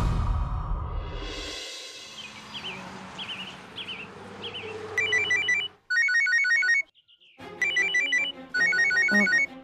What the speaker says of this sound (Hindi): नील घर से फोन।